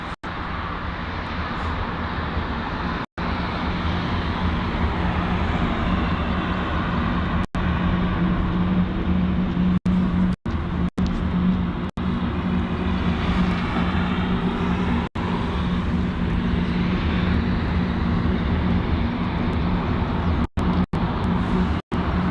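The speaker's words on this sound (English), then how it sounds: "gonna go nice and close on this United Boeing 777" A United Airlines Boeing 777 on arrival to runway 09 right at Heathrow produces a sustained, broad jet roar that stays loud and steady for over twenty seconds, heard alone outdoors.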